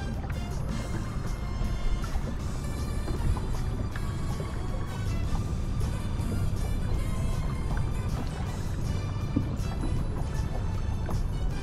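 A bass fishing boat running under engine power across Lake Biwa during a tournament, a steady broadband rush of hull, water and wind noise with no pauses and no voices.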